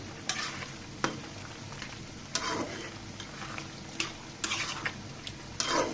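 Radish curry being stirred in a pan on the stove, with a soft continuous sizzle broken by several sharp scraping clicks of the spoon against the pan, fairly close and alone.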